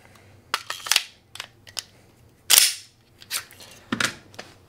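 A Glock 48/43X pistol fitted with a Beretta magazine being dry cycled: a string of sharp, close metallic slide clacks and clicks in irregular rhythm, several louder racks standing out, with no voices.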